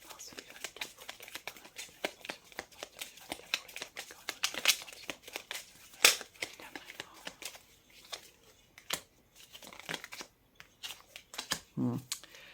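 Tarot cards handled and turned over, with crisp rustling, flicking and snapping sounds close by in irregular bursts while a person talks quietly.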